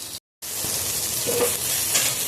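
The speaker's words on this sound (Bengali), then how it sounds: "এদিকে দেখো মাছটা ভেজে নিচ্ছি" Pieces of katla fish fry in hot oil in a pan, giving a close, steady sizzle and crackle after a brief gap of silence at the start.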